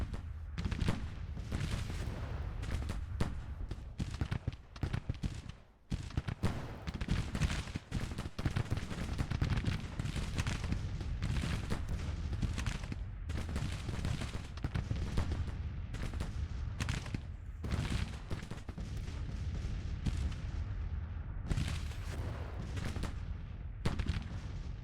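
Dense, continuous cannon and musket fire in the Civil War strategy game Grand Tactician, with heavy overlapping booms and crackling volleys that barely let up, loud and close, with no talk.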